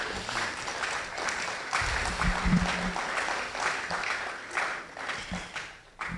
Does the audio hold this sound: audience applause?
yes